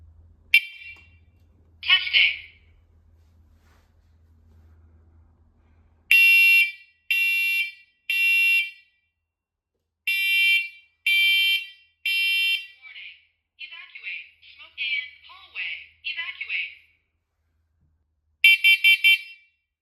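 A hardwired, battery-backed talking smoke and carbon monoxide alarm sounds during a test: loud, close groups of three piercing beeps, a spoken voice warning, then another beep burst, after a low hum at the start.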